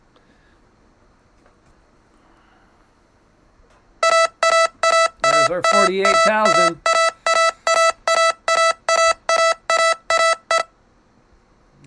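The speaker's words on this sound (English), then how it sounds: "So I set these alarms during the nighttime to see when it crossed a price that I need to wake up to" A price alert alarm for Bitcoin trading sounds a series of about fifteen loud, evenly spaced electronic beeps, sharp and tonal, while someone speaks briefly over the first few.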